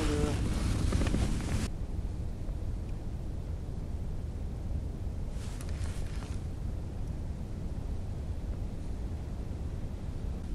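Steady wind rushes and buffets outdoors on an autumn pike-fishing trip, a constant broadband roar with faint water noise, briefly mixed with a brighter burst at the start.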